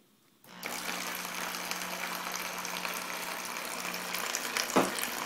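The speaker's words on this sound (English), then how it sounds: "So the pump is a little bit loud" Water pump in a time fountain rig switching on after a brief silence, then a steady near humming drone with splashing water hiss, fairly quiet, a short clunk near the end.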